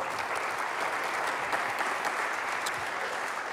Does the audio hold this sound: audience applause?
yes